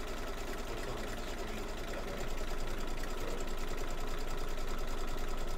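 An embroidery machine stitches a placement line for a Halloween quilt block, giving a steady rapid mechanical whir and needle patter that grows slightly louder partway through.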